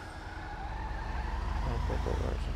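A car in a PC roleplay driving game makes a U-turn in the middle of the road, with a steady engine hum and a short tire squeal toward the end.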